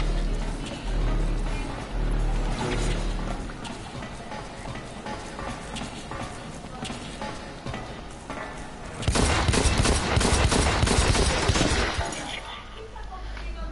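Gunfire from a weapon in the shooter game Blacklight, rapid shots over busy game noise that swell into a dense, loud burst of fire near the end.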